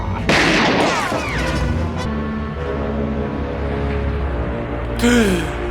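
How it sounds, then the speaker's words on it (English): A gunshot from a handgun held by a glove in a 1990s movie, a loud sharp blast near the start followed by a long ringing, droning tail and movie music, with another burst near the end. "they get shot at by a glove with a gun"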